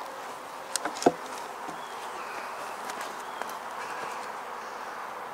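Honeybees hum steadily in a crowded hive during an open inspection, a continuous soft drone with a few brief knocks and taps near the start.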